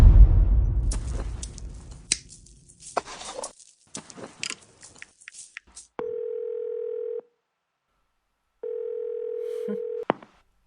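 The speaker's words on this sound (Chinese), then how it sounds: "我现在就给这件事情的负责人打电话" After some rustling and soft clicks, a telephone tone sounds in two long steady beeps separated by a pause.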